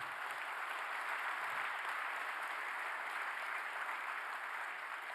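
An audience at a government policy presentation in Korea applauds, with dense, steady clapping from many hands that stays even and full for the whole stretch, with no speech over it.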